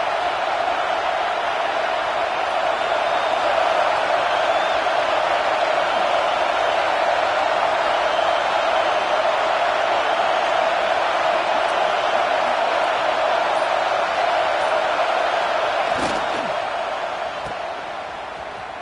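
Steady roaring stadium crowd from a College Football 26 video game, a loud continuous wash of cheering that holds level throughout with a brief sharp knock near the end.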